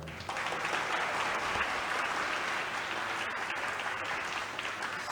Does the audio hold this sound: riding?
no